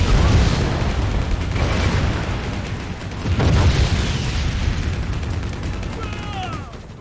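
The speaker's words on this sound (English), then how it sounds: "That's a lot of anti-aircraft fire." Anti-aircraft fire in the sci-fi shooter Prey (2006): a continuous barrage of booming blasts and rumbling explosions, loud and sustained, with heavy bursts swelling around the middle and a few whistling tones near the end.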